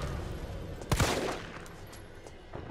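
Gunfire in Resident Evil 3 Remake: a sharp burst of shots lands near the one-second mark, with quieter shots echoing after it over a low game ambience. There is no talk.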